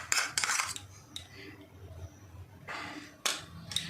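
A spoon scraping and clinking against a pan while stirring a raw mango candy mixture with ghee, several quick metallic taps and scrapes in uneven bursts, close and fairly loud.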